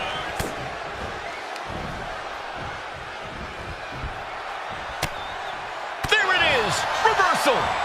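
Sharp slam impacts hit against a steady arena crowd roar in WWE 2K25, first an isolated smack, then a hard clothesline crash about two thirds through followed by a louder swell of the crowd, with commentary talk over it.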